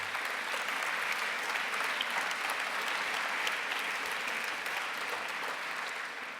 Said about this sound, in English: I think we should give them a big clap.